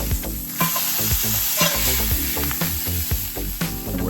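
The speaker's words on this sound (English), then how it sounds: "Next, we're going to use a cast iron skillet." A frozen hamburger patty sizzles and crackles in a hot cast iron skillet, with close, continuous frying hiss and a few scraping stirs or turns over it.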